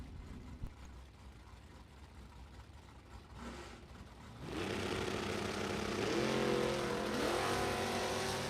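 A heads-up drag racing car launches wheels-up down the strip, a loud sustained engine roar building and holding with rising whine, after a quieter stretch of distant track ambience.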